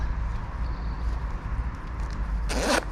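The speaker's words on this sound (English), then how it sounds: "Zip up." A buoyancy aid jacket is zipped up at a canoe boatyard, a single short rasp near the end after quiet fabric rustling.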